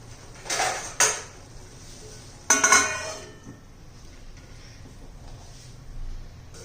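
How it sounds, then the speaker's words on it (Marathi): A metal lid is set onto a pan of cooking spinach bhaji. A few sharp clanks and clinks come close together at the start, then a louder rattling clatter follows, and quiet kitchen background remains afterward. "आता याच्यावर आपण झाकण ठेवून देऊया"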